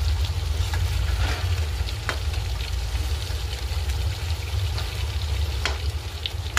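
Fish frying in a pan with a constant loud sizzle of hot oil. Sharp pops and spatters break through it here and there, and no one speaks.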